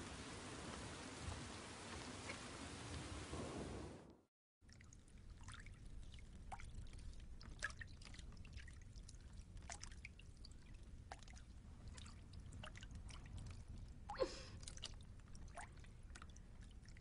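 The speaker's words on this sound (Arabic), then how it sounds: "ماذا حدث حتى أمطرت السماء بهذا الشكل؟" Steady rain falls in a biblical-era setting, a broad continuous wash of drops with scattered louder patters and drips, briefly cut by a moment of silence before resuming evenly.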